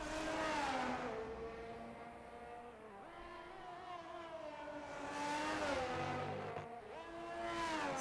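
A Ferrari race car in a racing game, its engine revving and shifting through gears at high pitch, with rises and falls of tone as it accelerates and brakes, steady and close.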